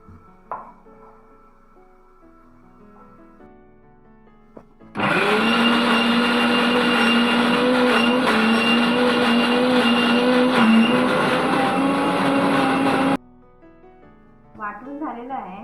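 A mixer grinder blends Malvani-style fish curry masala, a loud steady motor whir with rising pitch lasting about eight seconds, preceded and followed by quieter kitchen sounds and faint speech.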